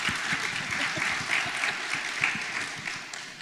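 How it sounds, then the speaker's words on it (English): Audience members at a panel discussion on digital accessibility give a hearty round of applause, close and dense clapping with a few distinct individual claps standing out, continuing for a few seconds. "A huge round of applause to our panel"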